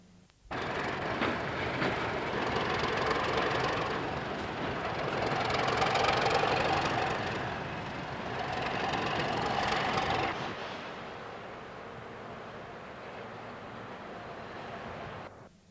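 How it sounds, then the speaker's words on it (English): A Class 31 diesel locomotive shunting a train of powdered cement wagons off the main line at Brightside, a steady loud engine drone that swells and eases, then settles to a lower rumble. "A trainload of powdered cement wagons are being shunted in by a Class 31 locomotive off the main line at Brightside."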